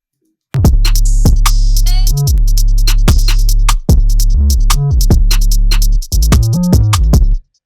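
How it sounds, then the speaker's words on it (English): A drill beat with deep sliding 808 bass, crisp hi-hats and snappy snares, playing loud and continuous with short breaks between bars. "With those natural 808 slides, drill slides. The whole rhythm section sounds like this."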